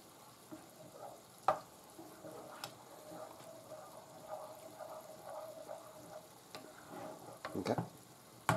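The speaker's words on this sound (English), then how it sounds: "And now, we just stir, stir," A spoon scrapes and clinks against a pan as food is stirred over a soft, steady sizzle, with several sharp taps scattered through the stirring.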